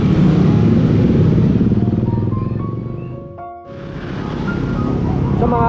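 A motorcycle rides slowly along a road at dusk, its engine a loud, steady drone close by that dips briefly in the middle before rising again, with no voices over it.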